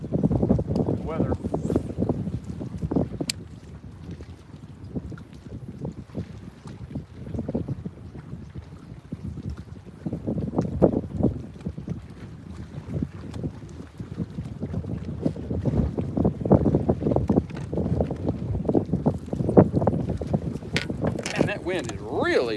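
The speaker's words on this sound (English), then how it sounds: "Wind is really picked up." Wind gusting across Lake Travis around a small fishing boat at sunset, rushing and buffeting the microphone steadily throughout, with water lapping underneath and someone talking over it.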